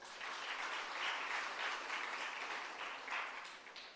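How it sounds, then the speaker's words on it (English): A workshop audience claps in sustained applause, a thick continuous patter of many hands at moderate loudness, holding steady for several seconds before trailing off with a few final claps. "Can we have an applause?"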